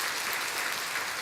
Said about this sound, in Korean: 인사할 때에 큰 박수로 환영해 주시면 감사하겠습니다.